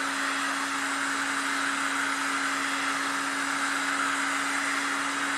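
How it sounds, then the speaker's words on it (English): A heat gun blows steadily on craft foam held in pliers for making fairy garden mushrooms, a loud, even hot-air roar with a constant whine running the whole time and no talking. "we turn the heat gun on. We heat the foam over it."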